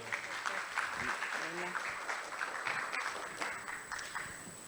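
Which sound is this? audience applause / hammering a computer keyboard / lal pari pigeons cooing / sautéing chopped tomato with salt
audience applause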